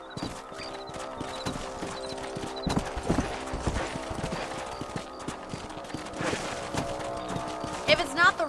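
Horse hooves clip-clop in the video game Red Dead Redemption, a steady, fairly quiet trotting rhythm under background music and game ambience, with a neigh-like sound near the end.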